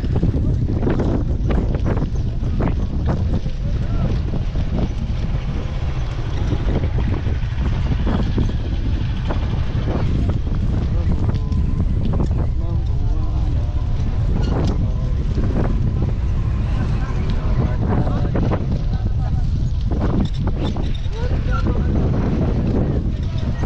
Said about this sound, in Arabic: الريح كيجرك اللور ماشي كيوقفك